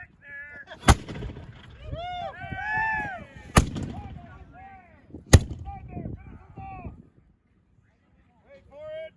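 Muzzle-loading cannons touched off with linstocks fire one after another: three sharp, loud booms spaced a few seconds apart, with shouted voices in between and after them.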